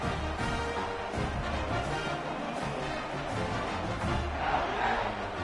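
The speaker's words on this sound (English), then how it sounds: "this crowd is feeling themselves after that last drive" Stadium crowd at a college football game roars steadily after a scoring drive, a dense wash of cheering and shouting that stays loud throughout with no clear pauses.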